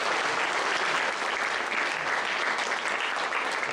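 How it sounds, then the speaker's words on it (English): An audience at a Science Day celebration gives a sustained round of applause, a steady wash of clapping that stays even and moderately distant throughout. "Please have a huge round of applause."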